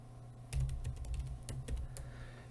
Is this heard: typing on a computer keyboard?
yes